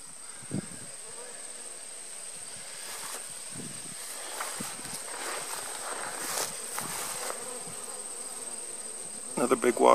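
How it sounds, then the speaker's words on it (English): A large wasp buzzes beside a GMO corn monoculture field in Minnesota. The insect drone is continuous and fairly close, with scattered rustles and faint outdoor noise around it. "Another big wasp."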